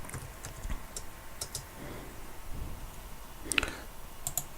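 Scattered clicks of keys on a computer keyboard as a make command is typed, light uneven taps with short pauses, close and fairly quiet, no talking.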